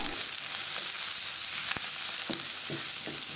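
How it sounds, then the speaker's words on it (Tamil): Coriander leaves being sautéed in a pan for radish chutney, giving a constant hissing sizzle with a few soft stirring knocks and one sharp tap partway through. "இதையும் நல்லா வதக்கி விட்டுடலாம்"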